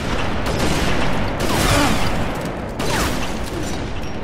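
A dense barrage of rapid video-game gunfire during a firefight aimed at an enemy's body, forming a loud, continuous stream of shots with booming impacts and little pause.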